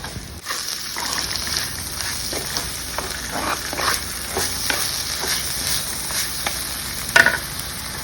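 Tender ridge gourd peels frying in a pan, a steady close sizzle with repeated scraping stirs throughout and one sharper clink near the end.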